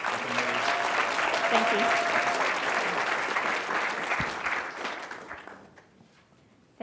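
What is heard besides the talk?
audience applause for speakers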